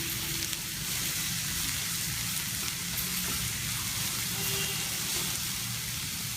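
Cabbage with haldi, salt and ginger green chili paste cooking in a pan, giving a steady, even sizzle and soft frying hiss that runs unbroken throughout at moderate level.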